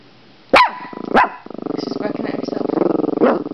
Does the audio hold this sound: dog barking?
yes